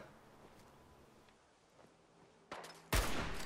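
Gunfire from Fallout 4 on hardcore mode: a faint muffled shot or two, then a louder sudden burst of shots near the end.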